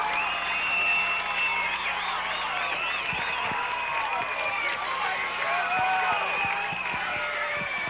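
A home crowd at a 1991 Nevada AA high school football semifinal, Truckee at Boulder City, shouts and cheers continuously, many overlapping voices rising and falling loudly from the stands.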